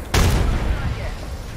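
Grenade explosion in Apex Legends, one sharp, loud blast followed by a rumbling decay that fades over about a second.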